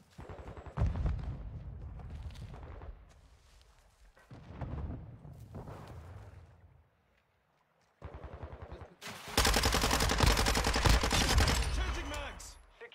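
Gunfire in an online multiplayer shooter game, with bursts of shots and loud rapid automatic fire building toward the end, with game voice callouts heard in between.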